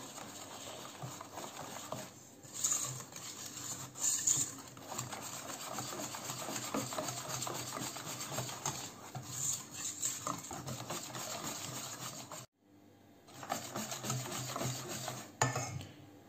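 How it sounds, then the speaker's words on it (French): Cake batter of milk and flour being mixed by hand, with quiet continuous scraping and rubbing strokes against the bowl and a brief pause near the end. "le lait, un peu de farine et je mélange"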